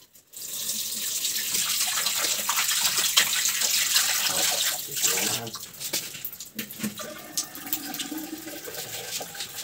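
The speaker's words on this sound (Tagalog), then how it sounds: "Umagas na yung aming gripo." Water gushes from a newly connected tap in a bathroom, a loud, steady rush that turns more uneven and splashy toward the end.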